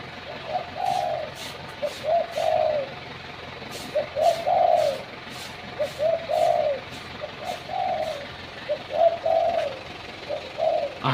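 A decoy dove calls in repeated cooing phrases, about eight clear coos in a steady rhythm, close and fairly loud, with faint background noise and soft voices between calls.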